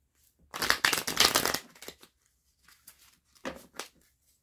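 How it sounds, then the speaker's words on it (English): A deck of cards is shuffled in a loud, crisp riffling burst, followed after a pause by a few shorter, softer riffles. "All right, one last shuffle."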